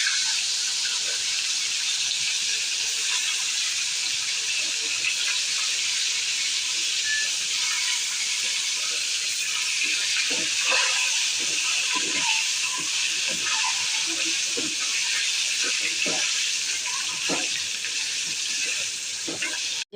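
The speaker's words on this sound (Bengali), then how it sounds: "ডিম ভেজে নেব।" Boiled eggs fry in hot oil in a home kitchen for egg curry, giving a steady bright hiss and sizzle throughout, with occasional pops and a voice speaking now and then.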